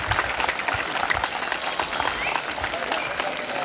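Dense, steady applause from an audience at a junior college farewell function in Chilumuru, with sharp overlapping claps filling the hall continuously from start to end and no voices rising above it.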